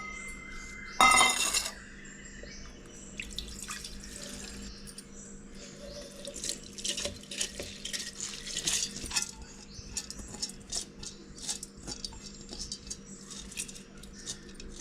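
Soaked rice for spicy kara kolukattai being drained of its soaking water in a kitchen, heard as soft trickling and dripping with light clinks of a vessel and utensils, a brief louder splash near the start, no talking.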